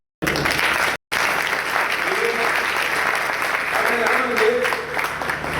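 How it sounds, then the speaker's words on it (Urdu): A church congregation claps steadily and fairly loudly for several seconds after a brief pause, with faint voices mixed into the applause. "اب تالیاں ملیں"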